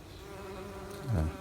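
Hundreds of bumblebees hum under a rhododendron on a misty early morning, a steady low drone with one bee buzzing close past the microphone near the end.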